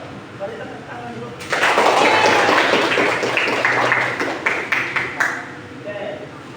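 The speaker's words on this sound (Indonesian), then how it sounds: "Boleh tepuk tangan dulu." An audience claps together at a group presentation: a steady wash of applause begins after a short stretch of talk, holds for several seconds, then thins into a few scattered claps.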